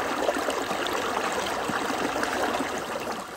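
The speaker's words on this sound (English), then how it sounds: "Just come across a little stream," A small mountain stream fed by snowmelt flows steadily in a winter mountain setting in the French mountains, a close, continuous rushing and trickling of water with no voices.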